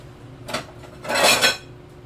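Dishes clatter in a home kitchen as a small plate is pulled from a stack, a brief clink followed by a longer, louder rattle of crockery, close and alone with no talk.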